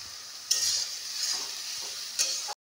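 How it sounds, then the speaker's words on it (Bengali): Ground spice paste hits browned onions in a hot pan and fries with a loud, steady sizzle. The hiss flares as it goes in and again near the end, then cuts off abruptly. "দিয়ে দিলাম সেই বাটা মশলাটা। এটা দিয়ে একটুখানি কষে নেব।"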